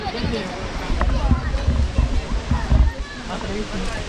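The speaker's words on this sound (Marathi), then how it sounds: "छोट्या धबधब्याची उंची 110 मीटर तर मोठ्या धबधब्याची उंची 350 मीटर." Thosegar waterfall near Satara roaring with a loud, continuous rush of falling water, broad and steady, under a person talking.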